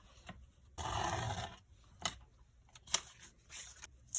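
Scissors cut through paper trim on a blank planner, giving a sustained rasping slice followed by a few short, sharp snips, close and fairly quiet.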